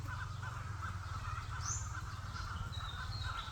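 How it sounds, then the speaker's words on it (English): Chickens inside a building heard from outside while hiking in Dauin, Philippines: a continuous mass of faint clucking and squawking from many birds, distant and steady, without speech. "I don't know if you can hear it, that thing's full of chickens."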